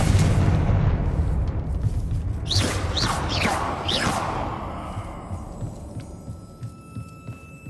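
A Confringo fire-blast spell goes off in Hogwarts Legacy inside a mine, a booming burst with whooshing, sweeping tones over a low rumble, fading into the cave's ambient drone.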